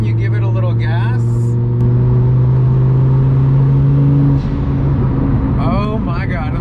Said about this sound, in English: let those blow-off valves sing